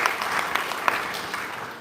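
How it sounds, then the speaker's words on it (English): Audience at a community training debrief clapping together, a dense, steady patter of many hands heard from the room, continuous and moderately loud throughout. "you can clap for yourself once again."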